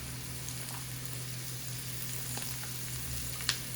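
Cut peppers go into a pan where a cheese omelette is frying, giving a steady, moderate sizzle throughout, with a small clack near the end.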